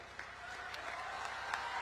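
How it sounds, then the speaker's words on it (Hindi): A crowd at an outdoor political rally in Jammu applauds, sounding faint and distant: a thin, continuous patter of many hands with a few sharper claps standing out. "जम्मू वालों, जोर से ताली बजाना।"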